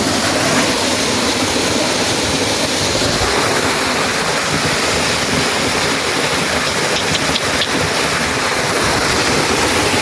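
Water from a small waterfall stream rushes steadily and fairly close, a dense continuous broadband splash with no pauses and no voices.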